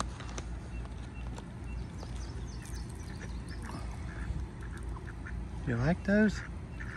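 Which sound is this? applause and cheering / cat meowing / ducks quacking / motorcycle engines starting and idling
ducks quacking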